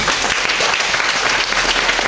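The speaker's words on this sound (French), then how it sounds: "on s'applaudit encore une fois les uns les autres" A church congregation at St Antoine applauds each other, a dense, steady wash of many hands clapping close by throughout, loud and unbroken with no voices rising above it.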